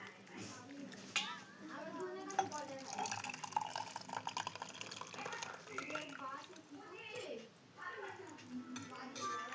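Freshly made tea poured from a pan into a cup, with a steady liquid trickle, small drips and light clinks of utensils, close and fairly quiet, mixed with a voice talking throughout.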